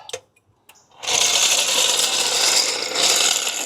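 A jack lets a car back down to the ground: a few sharp clicks, then a steady grinding hiss that holds for several seconds.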